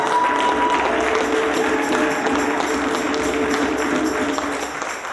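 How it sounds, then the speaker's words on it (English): Steady, dense applause from a large crowd at a Kwanzaa celebration fills the whole stretch, continuous and loud, easing off slightly at the very end. "Let's give the brother a round of applause."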